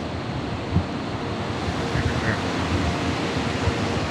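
Ocean surf on a Florida beach lined with resorts, a steady broad wash of waves mixed with wind buffeting the microphone, close and loud throughout.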